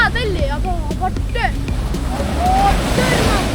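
Sea waves roll onto Azhikode beach in Kerala under wind noise, with a broad roar building toward the end, while a person talks over it.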